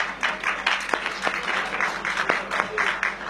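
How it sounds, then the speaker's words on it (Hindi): Audience applause at a religious gathering, a scattered patter of claps of moderate level with sharper individual claps standing out, no words spoken over it. "एक बार तालियां बजा दीजिए।"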